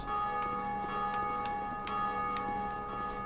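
A church-style bell tolls in Dark Souls II, steady sustained ringing tones with faint repeated strikes over a constant droning background, fairly even in loudness throughout.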